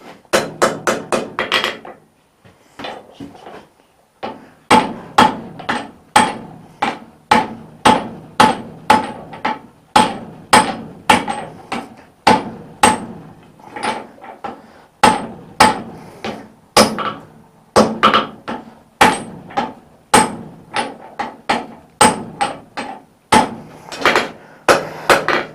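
A blacksmith hammers a flat bar on an anvil to start squaring it for a collar weld. The blows are loud, ringing and close, struck in quick rhythmic runs with a brief pause early on.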